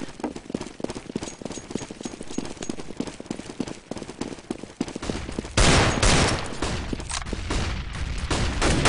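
Rapid bursts of gunfire crackle through a competitive team shooter match, then a grenade explosion hits hard and leaves a louder, rumbling roar that carries on to the end.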